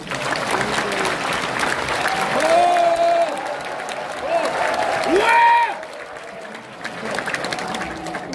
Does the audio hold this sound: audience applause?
yes